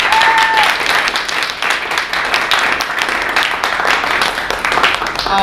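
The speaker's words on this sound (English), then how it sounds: "One giant round of applause, Ryan." An audience claps for a presenter at a VR event, a loud, dense burst of applause that holds steady throughout, with a brief whistle-like tone near the start.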